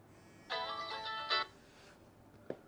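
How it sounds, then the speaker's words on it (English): A phone's ringtone goes off, a short harmonic electronic melody in two bursts, moderately loud, followed by a brief sharp click. "Oops, getting a phone call"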